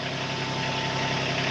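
A tractor engine idles steadily while its 3-point hitch lifts a heavy homemade chicken tractor, a low, even drone with a constant hum and no voices.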